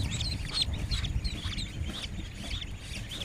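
A crowd of ducklings at a hatchery in Tarakanda, Mymensingh, peeping constantly, with high, thin chirps overlapping over a low rumbling background.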